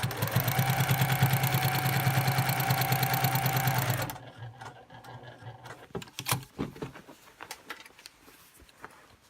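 A sewing machine runs in one steady, close, rapid stitching burst while a quilt is being pieced, then stops abruptly, leaving faint handling clicks and light rustles of fabric.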